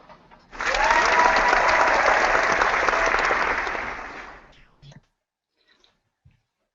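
A hall audience breaks into sustained applause that swells quickly, holds steady for several seconds, then tapers off into near silence.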